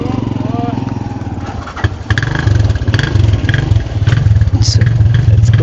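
A motorized tricycle engine runs steadily near a port in Boracay, a low chugging hum that swells louder partway through, with a person talking over it.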